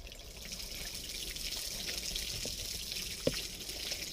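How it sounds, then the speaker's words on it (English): Water and tomato seed pulp trickle and splash faintly into a sieve over a sink, a soft continuous pour with a small drip or knock near the end. "We're going to pour this to our sieve again."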